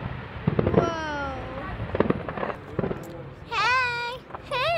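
Fireworks pop and crackle in short irregular bursts at a nighttime display, mixed with excited voices and high whistling tones that rise and fall, heard fairly close.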